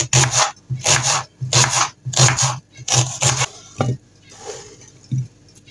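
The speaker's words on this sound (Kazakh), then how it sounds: "Пиязымды турап алам." Onion chopped with a knife on a board for a Kazakh lamb and potato dish, a run of six rhythmic close bursts of slicing with board knocks, then slower scattered cuts.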